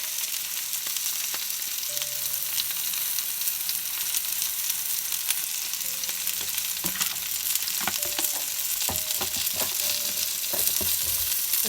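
Potatoes with pepper and paprika fry in a pan, a loud continuous sizzle broken by scraping and knocks as they are tossed and stirred, with no talking.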